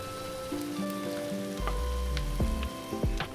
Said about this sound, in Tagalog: Ilagay na natin ang hiniwang talong.